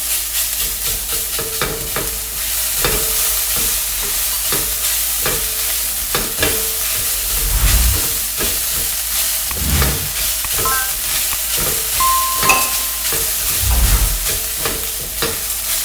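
Fresh grated coconut toasts in a pan, a constant sizzle broken by repeated scraping strokes and occasional clanks of a spoon stirring it close by.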